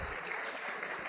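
Applause from a session chamber audience, a soft, faint, continuous wash of many hands clapping at a distance, brief and steady.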